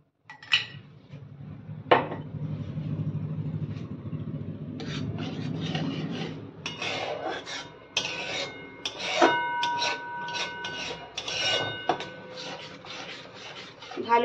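Bhetki fish being mixed with yogurt in a pan: quiet scraping and rubbing of a spoon against the cookware, with scattered metallic clinks and taps across the stretch, close by and with no voices.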